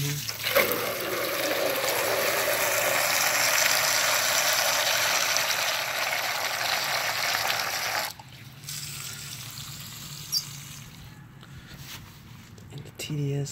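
Water from a reverse osmosis filter unit pours into a container, a steady hissing trickle that stops abruptly partway through, followed by quieter handling clicks and a brief knock.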